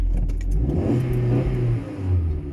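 A 1.2 Corsa with engine knock revs up and settles, its mid-pitched engine rising and falling twice in a close, steady drone with no talking.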